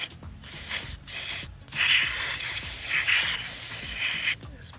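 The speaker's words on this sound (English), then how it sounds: "So we are going to be using this spray, Tyson 3D. All you're going to do is spray." Tyson 3D cleaner sprayed into a dirty motorcycle brake caliper on a Kibo K15, giving a steady close hiss that swells in three longer bursts, with rubbing and handling noises in between.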